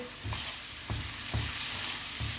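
Mushrooms frying in oil in a pan for a light mushroom and chicken soup, a constant close sizzle with soft stirring knocks every half second or so.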